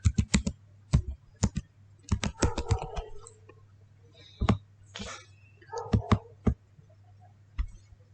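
Keys tapped on a computer keyboard in irregular close bursts of crisp clicks with pauses between, while a faint low hum runs underneath and a few soft voice fragments appear.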